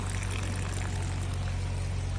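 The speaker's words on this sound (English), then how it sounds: "You can see the water coming in right there" Water pours steadily from a fish tank into aquaponics grow beds planted with blue turmeric, a continuous close splashing rush with a low hum beneath and no talk.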